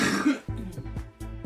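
A person coughs and clears their throat in a few short, quiet bursts, close to the microphone and with no other talk.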